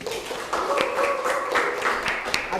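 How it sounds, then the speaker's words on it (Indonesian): A class of students claps for a classmate after her drama monologue performance, a brief, light patter of hand claps in a room, fairly faint and even throughout. "tepuk tangan semuanya."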